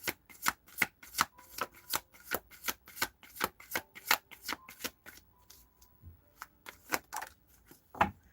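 Tarot cards shuffled by hand in a quick, rhythmic series of crisp riffling bursts, about a dozen and a half, close and clear with short pauses and no talking.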